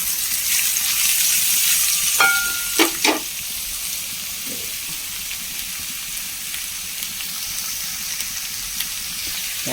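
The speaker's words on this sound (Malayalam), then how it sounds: "ഒരു മൂന്ന് സവോള പിന്നെ ഒരു അഞ്ചാറ് പച്ചമുളക് കുറച്ച് കറിവേപ്പില അതും കൂടി ചേർത്ത് നന്നായി ഒന്ന് വഴറ്റി" Onions, green chillies and curry leaves sautéing in a pan for a squid roast, giving a steady close sizzle with a few sharp spatula scrapes and clinks early on, no talking.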